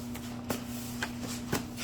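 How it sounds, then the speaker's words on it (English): Several decks of tarot cards are shuffled by hand, producing quick soft riffling bursts at about half-second intervals, close and moderately quiet over a steady low electrical hum. "I got like 4 decks here, so excuse me, I'm shuffling all of them"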